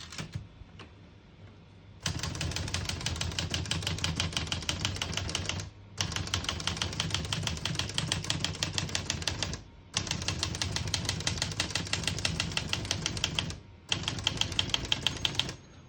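Rapid, crisp keystrokes clatter on a 1976 Olivetti 32 portable typewriter in long, steady bursts, each run broken by a brief pause, close and mechanical with no voices.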